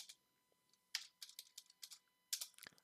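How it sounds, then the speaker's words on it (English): Quiet computer keyboard typing in scattered bursts of light clicks with short pauses between them, close up and alone. "So I'm just going to type here."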